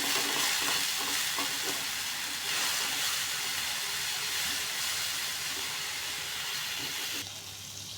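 Ground onion paste frying in oil in a pan while cooking mustard hilsa, a loud, steady sizzle with bursts of stirring, easing slightly at the end.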